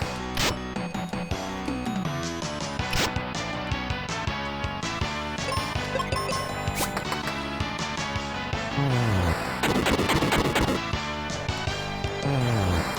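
Fire spell effects from the SNES game Final Fantasy Mystic Quest, layered over busy chiptune battle music, with bright crackling bursts and descending sweeps around the middle and end, loud and continuous.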